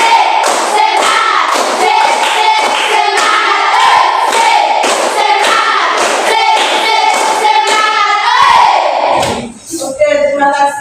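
Seventh-grade students in a classroom lesson chant loudly in unison with steady rhythmic clapping and thumps. The sound continues at full level, then drops briefly and ends in scattered voices.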